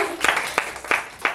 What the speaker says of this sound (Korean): 박수 나만 치는 거지?